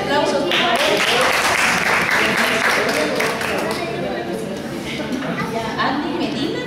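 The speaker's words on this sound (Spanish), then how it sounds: "Fuertes aplausos, por favor." Steady, loud applause and clapping from an audience at an awards ceremony honoring children and young people at a restaurant and pastry shop, with crowd chatter mixed in throughout.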